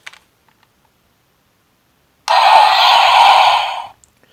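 A top-button press on a bootleg Chinese-version DX Beliarok toy sword from Ultraman Z triggers the Z-Lance Arrow electronic effect: one loud, bright, buzzy burst of about two seconds after a quiet start, with no talking.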